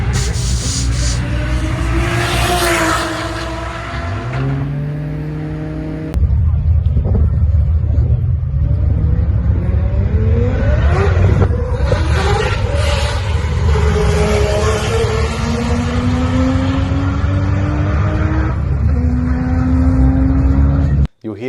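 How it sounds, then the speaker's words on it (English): A Toyota Supra's engine roars loudly at a race track as its tyres spin on an unprepped surface, revs rising and falling in sweeping pitch changes, close and continuous, with a brief drop in level partway through. "You'll hear the wheel spin"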